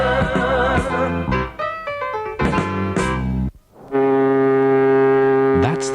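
Deep horn of the QE2 ocean liner sounding in long sustained blasts, loud and close, preceded by a series of shorter horn tones with a brief pause before the final held blast; no talk.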